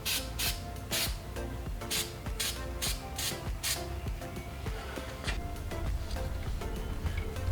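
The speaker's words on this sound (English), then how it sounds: "I'm going to cover it with this Eastwood textured rust encapsulator" Eastwood textured rust encapsulator sprayed from an aerosol can onto a utility trailer: a run of short, hissing bursts in steady succession, fairly close, with no talking.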